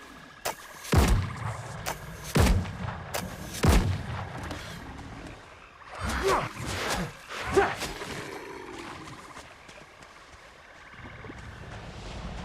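Several sharp gunshots from the video game Windrose crack out in a spaced series near the start, followed by quieter impacts and rumbling noise, with a lull of low ambience toward the end.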